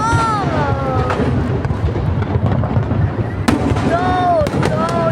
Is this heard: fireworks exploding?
yes